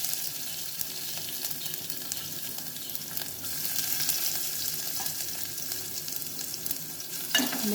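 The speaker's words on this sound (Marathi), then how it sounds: "याच्यामध्ये मी जिरे आणि मोहरी टाकते। अर्धा चमचा हिंग टाकते। लसूण टाकते क्रश केलेला।" Cumin, mustard seeds, asafoetida and crushed garlic fry in hot oil, producing a steady, moderate sizzle throughout with a small clink near the end.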